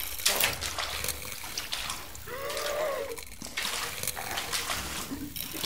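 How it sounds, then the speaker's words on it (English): In the horror game Ad Infinitum, a monster's heavy footsteps slosh and splash through water close by, a few wet strides rising and falling while someone talks over them. "I hear his footsteps in the water."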